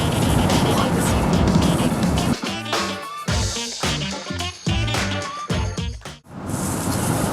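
A car being driven, heard from inside the cabin: steady road and engine rumble, then voices and tonal sounds over the drone.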